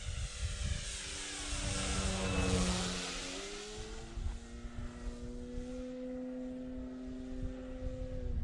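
Hangar 9 Valiant 10cc RC airplane flies past, its small gas engine and propeller buzzing with a falling pitch as it sweeps by overhead, then a steady, moderately distant drone.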